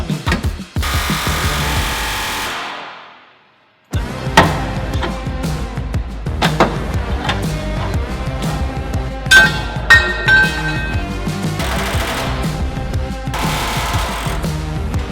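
Pneumatic air hammer punching out the bump stops on a Toyota Tacoma, a loud continuous metallic hammering rattle that stops briefly near the start, then resumes with sharp clanks and ringing metal hits over the steady chatter.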